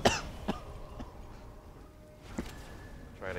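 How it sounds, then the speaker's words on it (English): A sharp cough up front, then a few softer coughs and throat-clearing sounds scattered across a quiet, faintly noisy background. "Try to get as much of that cough into the mic as you can"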